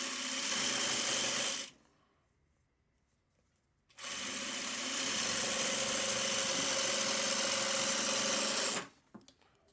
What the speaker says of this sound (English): We'll sew this triangle on.